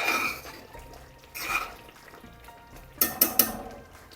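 Potato curry splatters and sizzles in a hot pan as it is stirred, with soft bursts of spitting and scraping followed by a few sharp pops near the end, fairly quiet and close.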